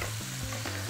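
Onions fry and caramelize in a hot pan, giving a steady, close sizzle with occasional stirring scrapes, no voices over it.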